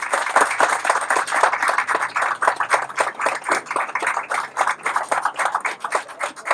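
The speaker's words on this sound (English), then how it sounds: "So would everyone please give them a big round of applause." A crowd at a Walmart groundbreaking ceremony claps, the individual hand claps close and distinct, falling into a fairly even, rapid rhythm that keeps going throughout.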